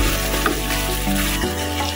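Roasted tomatoes tipped into a hot pan for baingan bharta, giving a steady close sizzle and frying hiss with a faint stirring scrape, no talk over it.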